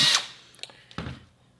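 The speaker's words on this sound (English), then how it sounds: "Then it's just a matter of lining this up and drilling some holes." A power drill bores holes into a homemade Sabacc case, a short burst of high whirring followed by a few small knocks and a lower thud as the bit settles.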